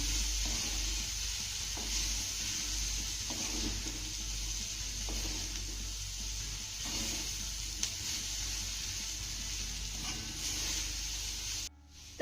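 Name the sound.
sautéing jowar flour noodles with vegetables on high flame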